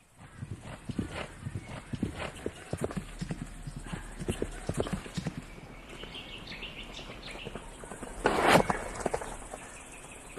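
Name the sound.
horse galloping hooves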